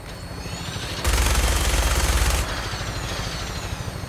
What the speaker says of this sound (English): Oh my god, it's an infinite ammo minigun